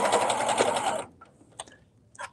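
A sewing machine stitches a ribbed knit neckband in a fast, loud whirring run for about a second, then stops, followed by a few quiet clicks and handling sounds.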